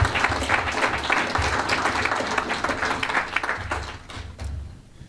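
An audience applauds a speaker coming up at an evening leadership event, a dense, even wash of clapping for about five seconds that fades toward the end.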